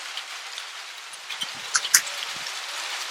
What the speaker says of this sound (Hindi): ये तो तेज होने लग गई बरसात,